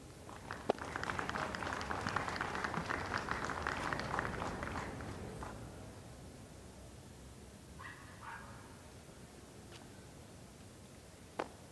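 Outdoor crowd applause at the Monaco national day ceremony on the Palace Square, dense clapping for about five seconds, then fading into quiet open-air ambience with a few faint sounds.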